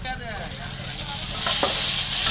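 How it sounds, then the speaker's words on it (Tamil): Tomato goes into a pan of sautéed onions and green chilli, and the frying swells into a loud, close hiss that builds steadily, with a couple of stirring scrapes. "வெங்காயம் நல்லா வதங்கிடுச்சு. இப்போ தக்காளி சேர்த்துக்கலாம்."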